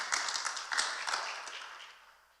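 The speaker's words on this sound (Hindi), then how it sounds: "ताली बजाकर एक दूसरे को बधाई दें।" A church congregation at a Hindi-language assembly breaks into brief applause, a few loud clustered claps and scattered clapping that thin out and fade within two seconds, with no talk.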